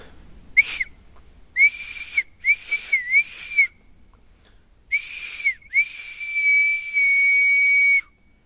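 A small homemade elderberry-wood whistle gives a series of shrill, piercing blasts, short bursts and then longer sustained tones, sounding close and loud with quiet gaps between them.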